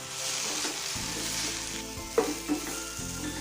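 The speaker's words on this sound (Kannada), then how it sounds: "ನೋಡಿ, ನಾನಿಲ್ಲಿ ಪುದೀನ ಸೊಪ್ಪನ್ನು ಕೂಡ ಹಾಕಿದ್ದೀನಿ ಫ್ರೈ ಮಾಡ್ಕೊಳ್ಳೋದಕ್ಕೆ." Mint leaves and spices fry for a hotel-style pulao, giving a bright continuous sizzle up close with a few sharp spatters and stirring clinks, no speech.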